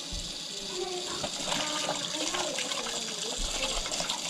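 Water pours over dried mushrooms to soak them for a beef bourguignon, a continuous splashing, gurgling flow heard close at moderate volume, with faint talk beneath it.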